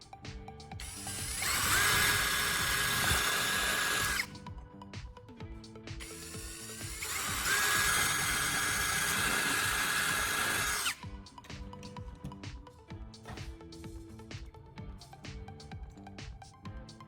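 A small power drill bores holes into an aluminum Coca-Cola can for a homemade mini stove, whining loudly in two long bursts with a quieter mechanical pause between them and a low clattering tail.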